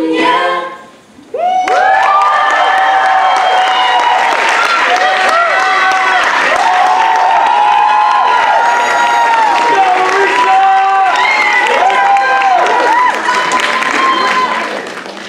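A crowd at an Indian student association cultural night breaks into loud, sustained applause with cheers and shouts, after a brief quiet start, and keeps going for the rest of the clip.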